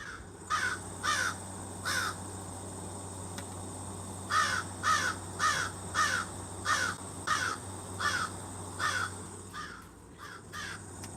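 Crows cawing outdoors in short bursts, a pair of calls, a pause, then a run of about eight evenly spaced caws at moderate distance over a faint steady background hum.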